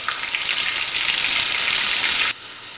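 Onion, garlic and ginger paste frying in hot oil with bay leaf, cumin and green chilli, a steady loud sizzle that cuts off abruptly near the end.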